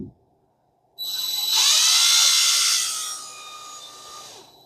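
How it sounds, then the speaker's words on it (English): A part from a vintage Daiwa 1600c Silver Series fishing reel spins in a power drill chuck, a high whirring whine that starts abruptly, holds steady and then eases slightly, close and alone. "Put them in your drill and soft chuck them."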